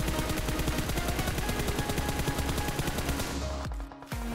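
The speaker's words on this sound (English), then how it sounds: "Here, I am shooting at 200 meters target while crouching" Sustained automatic gunfire from a crouching position in PUBG Mobile, a rapid, loud, unbroken string of shots that stops briefly near the end.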